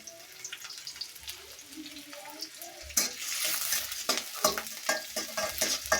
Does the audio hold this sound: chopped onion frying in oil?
yes